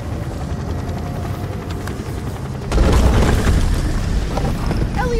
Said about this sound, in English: Pulling back the helicopter due to the severity of the storm.